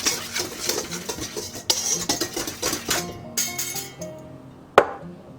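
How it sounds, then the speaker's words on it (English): Flour and a pinch of salt being mixed in a bowl for tart dough, a utensil clinking and scraping against the bowl in quick repeated strokes, close up, ending with one sharper knock. "Give that a little mix."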